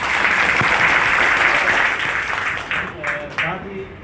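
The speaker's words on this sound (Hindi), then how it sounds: "मैं चाहता हूँ कि आपके एक जोरदार ताली बजाएं।" An audience at a Bahujan public gathering in Pachore applauds in loud, dense, sustained clapping that gradually thins out over a few seconds, with voices talking underneath.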